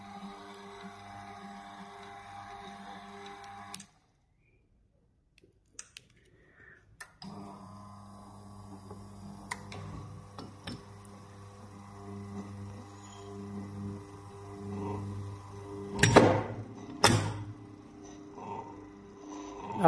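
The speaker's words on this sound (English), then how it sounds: "Now, the lock released, the motor began to open." An electric mechanical lock on an AC control box releases with a few sharp clicks, then a quiet motor hums as the gate opens, growing louder with some rattling toward the end.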